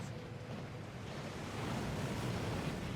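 A waterfall rushing in the Hogwarts Legacy video game, a steady broadband roar of falling water that swells slightly louder midway, with no voices over it.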